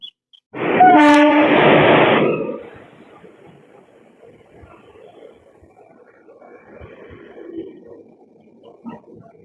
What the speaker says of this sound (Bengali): ছেড়ে দিল আমাদের ট্রেন সাঁইথিয়া স্টেশন থেকে।